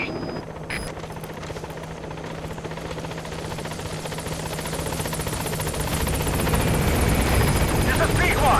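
The B-Quad helicopter in Metal Gear Solid V approaches a landing zone, its rotor thudding in a rapid steady beat that grows louder as it nears, with a radio voice speaking over it.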